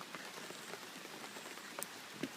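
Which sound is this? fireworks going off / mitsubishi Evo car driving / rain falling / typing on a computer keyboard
rain falling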